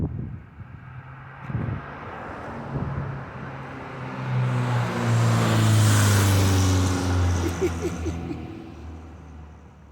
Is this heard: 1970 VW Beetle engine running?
yes